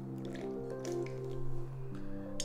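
Two tablespoons of apple cider vinegar trickle through a small funnel into a bottle, a light continuous liquid dribble with faint drips over a steady low hum, close and without talk.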